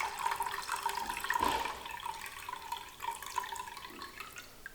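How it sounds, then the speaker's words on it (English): Cloudy white water from rinsing rice is poured off from a pot, giving a close, uneven trickling and splashing that rises and falls in short surges. "when you rinse the rice, you want to throw the water off, the first water"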